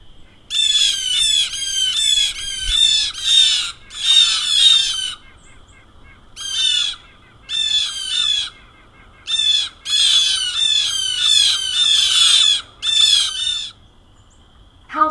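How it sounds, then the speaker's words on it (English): Blue Jay mobbing calls: a long run of harsh, repeated squawking jeers in close bursts, loud and near, with brief pauses between volleys. "Blue Jay mobbing calls."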